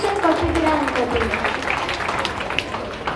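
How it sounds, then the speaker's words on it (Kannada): An audience at a Janata English medium school's Krishna Janmashtami costume contest claps loudly in a dense, sustained burst, with voices talking over it. "ಒಂದು ಜೋರಾದ ಚಪ್ಪಾಳೆ ಬಂದರೆ ಓಕೆ ಹೇಳ್ಬೋದು"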